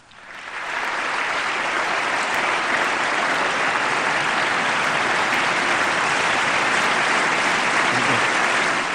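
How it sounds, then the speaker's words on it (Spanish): Loud, sustained applause from a large crowd, dense and continuous clapping that swells in quickly and holds steady throughout. "Ovación de pie, es todo un símbolo"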